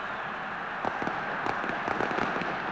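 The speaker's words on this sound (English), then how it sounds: "Firecrackers now around this huge stadium." Firecrackers pop around a huge football stadium during an Argentina vs. Paraguay match. Scattered sharp cracks burst irregularly over a dense, steady crowd roar.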